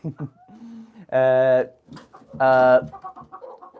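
A pet hen called Speckles gives two drawn-out, tonal calls, each about half a second long, close by, with a person talking quietly before and between them.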